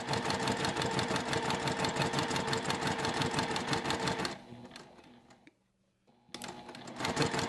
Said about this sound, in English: I will do a back stitch